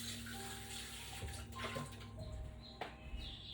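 Tap water runs steadily into a kitchen sink while a container is rinsed out, a close, continuous rushing splash with slight shifts as the container moves under the stream.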